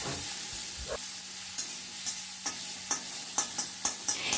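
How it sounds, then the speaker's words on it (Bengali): Grated onion is stirred and fried in a pan: a steady, close sizzle with repeated sharp scrapes of a utensil across the pan in an uneven rhythm, and no talking. "যে একখানা পেঁয়াজ আমি গ্রেট করে রেখেছিলাম সেটা দিয়ে দিলাম, দিয়ে একটু নাড়াচাড়া করে নিচ্ছি"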